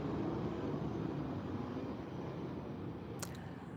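An airplane flying overhead in a residential neighbourhood gives a steady, broad roar that fades slightly, heard alone without speech.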